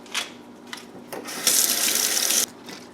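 A kitchen tap running to refresh the water for a jar of scallions, with a couple of brief spurts before a steady one-second gush that cuts off.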